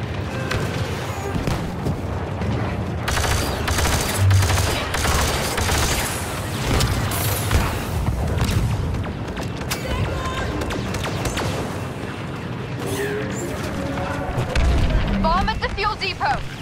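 Star Wars Battlefront II battle on Hoth, with grenade explosions and bursts of blaster gunfire. The din is loud and dense and runs throughout, with booming blasts and shouted voices over it.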